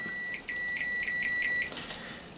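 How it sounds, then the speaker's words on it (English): An electronic buzzer on a microphone's wiring sounds as the circuit is closed, giving a close, steady high-pitched tone in a few short pulses, then a longer continuous stretch that cuts off, with no speech. "the buzzer goes off"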